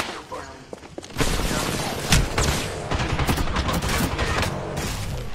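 Loud video game gunfire rattles in a dense, continuous barrage after a brief quieter opening, with the shots packed tightly together for several seconds.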